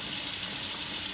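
A kitchen water tap runs steadily at a sink, a continuous close hiss of flowing water with no pauses.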